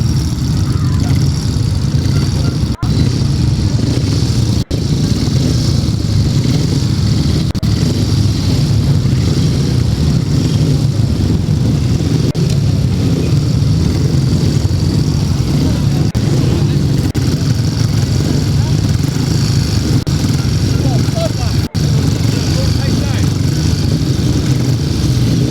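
A pack of 500cc solo grasstrack motorcycles at a British Masters meeting drones and revs steadily, loud and continuous, with an announcer's voice over the engine noise.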